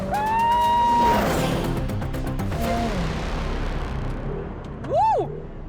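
Lotus Emira in track mode pulling away from a launch-control start, its engine note climbing sharply then stepping down at gear changes and climbing again, loud from inside the car, with a short voiced exclamation near the end.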